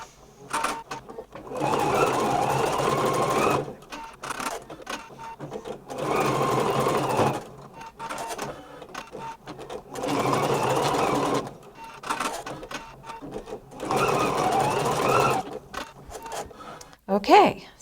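An embroidery machine stitches a sparkle tote bag design in repeated bursts of fast, close mechanical stitching with short gaps between runs, and a faint click near the end.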